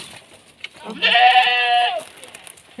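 Goats bleat in a farm pen, one loud close drawn-out bleat standing out over faint background noise and distant animal sounds.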